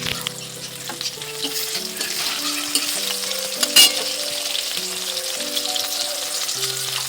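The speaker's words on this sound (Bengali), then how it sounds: "এখন মাছ ভাজা চলছে" Fish sizzles and crackles in hot oil in a continuous, busy frying sound, with no voices.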